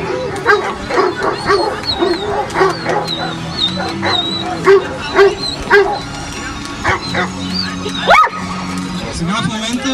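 A dog barks and yips repeatedly during a dog training demonstration in Stara Zagora, with a few whimpers in between, as someone commentates loudly over it.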